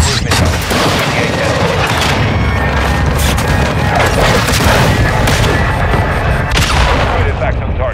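Artillery strike in a video game: a dense barrage of loud booming explosions and crashing impacts rolling continuously with overlapping blasts, with voices faintly mixed in underneath.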